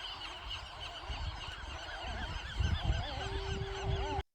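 A noisy seabird colony on Anacapa Island in breeding season gives a dense, overlapping chorus of honking, squawking calls with no pause, growing louder toward the end.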